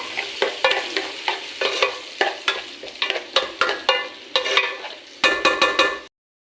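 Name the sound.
onions sautéing in a pan with garlic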